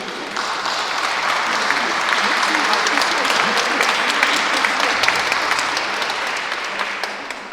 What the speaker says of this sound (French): Et donc on vous applaudit.